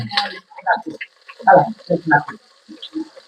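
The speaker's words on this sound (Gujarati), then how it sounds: "મીઠો લીમડો બધું તેલમાં નાખી દીધું છે." Ginger, chillies and curry leaves dropped into hot oil for an aloo matar dish give bursts of crackling sizzle in uneven clusters, fairly close, with a voice speaking intermittently over the frying.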